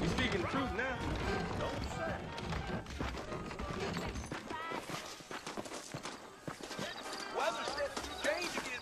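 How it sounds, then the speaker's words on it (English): Saddled horses in the Red Dead Redemption game, steady clip-clop of hooves walking along with occasional snorts and creaks, moderately faint beneath ongoing talk and background music throughout. "I got the horses saddled up and ready out front."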